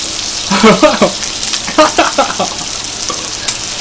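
Beef and onions sizzle loudly on a grill, a constant close fry hiss broken by repeated scraping and stirring clatters in short bursts.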